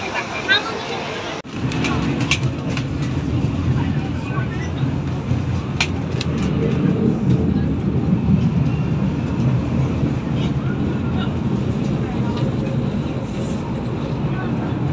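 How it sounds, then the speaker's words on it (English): The Peak Tram in Hong Kong climbs the steep mountain track with a steady, loud rumble of wheels and motor, continuous throughout, with passengers' voices mixed in. "We're gonna go to the top using this tram."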